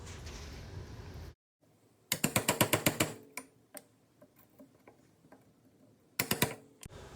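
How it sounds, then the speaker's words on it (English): A chisel paring the edges of a mortise cut into a scrap 2x4, heard as bursts of rapid sharp taps and clicks with a few isolated knocks between them, close and fairly loud. "come back with a chisel and just clean up the edges of this mortise to make it fit perfectly with your tenon"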